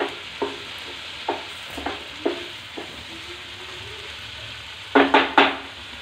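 Prawn fry being stirred in a pan after resting covered, with spaced spoon scrapes over a low sizzle, ending in a quick burst of louder scraping, close by.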